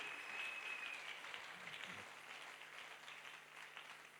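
Church congregation applauding during a French-language worship service, a steady, dense wash of clapping that holds fairly even throughout at moderate distance, with no voices standing out.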